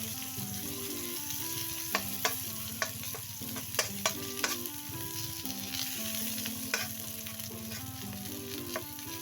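Onions softening in a hot pan give off a steady sizzle that runs throughout, with scattered clinks and scrapes as they are stirred, fairly close and with no talking.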